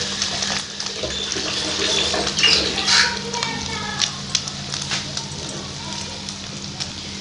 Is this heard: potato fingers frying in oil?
yes